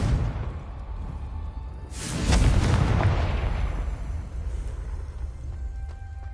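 The Confringo spell in Hogwarts Legacy goes off as a single booming explosion with a rushing whoosh. It rises out of a low rumbling background, then slowly fades.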